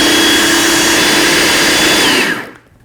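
A kitchen blender whirs loudly and steadily as it purees a cottage cheese ice cream mixture, then winds down and stops near the end.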